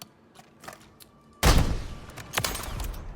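JAK Salvo rocket rounds firing in Call of Duty MW3, a quiet lead-in of faint clicks then a sudden loud booming blast with a rumbling, crackling tail and a second burst.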